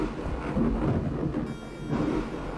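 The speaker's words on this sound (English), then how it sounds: "I like how they triggered it when you walk on it, it does thunder." A deep rumble of thunder from the DOS game Witchaven, set off by stepping onto a spot near a huge forge; a rolling, booming swell that rises, eases, then surges again, with a rain-like hiss behind it.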